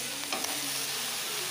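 Eggplant frying in oil in a pan sizzles steadily and close while being stirred, with soft scraping strokes over a continuous hiss.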